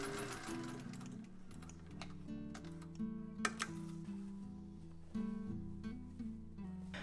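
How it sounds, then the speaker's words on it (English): Sewing machine basting straps onto a fabric bucket hat, a quiet steady mechanical whir of running stitches with slight shifts in speed and a couple of faint clicks, with no talking. "go ahead and machine paste them in place"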